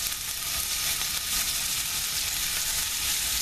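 Beef frying in batches in a hot pan, a steady, close, loud sizzle that holds without a break.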